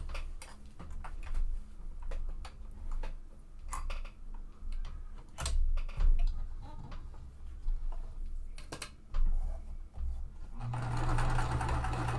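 A sewing machine stitches a quilt seam for a spring mystery quilt, its needle ticking in quick, uneven bursts with short pauses between runs, fairly quiet and close by.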